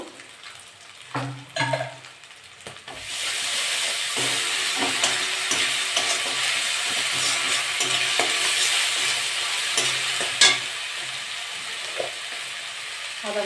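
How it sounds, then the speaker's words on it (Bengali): Ginger-garlic paste fries with onions in a hot pan for a fish curry. A few clatters of the spoon are followed by a steady, loud sizzle with occasional stirring scrapes. "আমি আদা রসুন বাটা এক চামচি দিয়ে দেবো"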